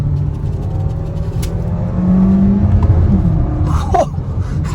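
A 2022 Kia Soul Turbo accelerates hard, its engine rumble rising steadily from inside the cabin, heard close and fairly loud with no talk.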